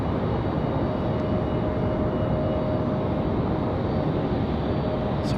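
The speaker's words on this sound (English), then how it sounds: "It's our beautiful JetBlue." A JetBlue airliner roars steadily at an airport on a windy day, a broad continuous engine rumble with wind noise, no voices.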